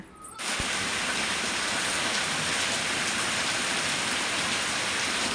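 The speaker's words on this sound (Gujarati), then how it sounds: "વાદળા હતા ત્યાં જો વરસાદ ચાલુ થઈ હશે" Steady rain falls, starting suddenly and then hissing evenly and loudly without a break.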